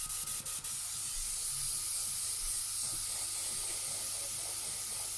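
An airbrush fed by a weak compressor sprays a thick coat of liquid mask onto an RC car shell, producing a continuous, steady close hiss throughout with a few faint clicks near the start.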